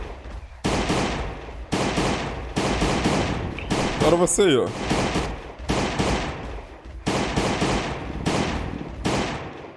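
Loud bursts of rapid gunfire in the video game Last Day On Earth come in repeated volleys, separated by short pauses, while someone speaks briefly between shots.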